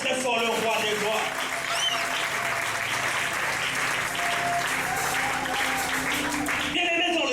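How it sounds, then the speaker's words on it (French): Church congregation applauding and cheering loudly, continuous dense clapping with shouts and voices calling throughout, holding strong before cutting off near the end. "Est-ce qu'on peut acclamer très fort le roi des gloires?"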